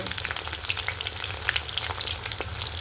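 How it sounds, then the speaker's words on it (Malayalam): Parippu vada, crisp lentil fritters, frying in hot oil, with a steady dense sizzle and crackle throughout and a few soft scrapes as they are stirred and flipped in the pan. "എല്ലാം ഒന്ന് മറിച്ച് കൊടുത്തെങ്കിലേ രണ്ട് സൈഡും ചെയ്യുള്ളൂ"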